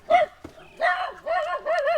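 Stray soi dogs on Koh Samui give a few short, close barks and yips, with whiny, rising yelps running between them.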